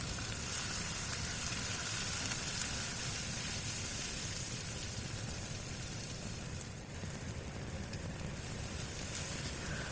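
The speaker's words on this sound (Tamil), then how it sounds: "வெங்காயம் இந்த அளவுக்கு செவந்து வர வரைக்கும் வதக்கிட்டு" Chopped onion with fennel seeds, green chillies and garlic frying steadily in a pan for an egg kurma, giving a continuous, close, even sizzle like light rain with no pauses and no voices.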